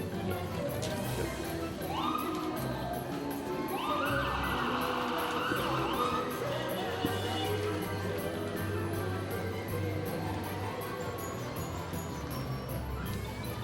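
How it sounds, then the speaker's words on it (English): Fire engine Engine 62 of Walden's Creek Fire and Rescue rolling past in a Christmas parade in Gatlinburg, its siren rising and falling in long wails over steady crowd murmur and street noise. "Rolling through now is Engine 62 of Walden's Creek Fire and Rescue"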